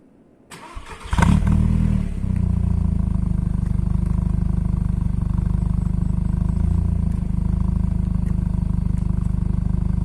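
A remapped VW 1.8T 20-valve turbo GTI cranks and fires after a second of quiet, then settles into a loud, steady, even-running engine rumble close by.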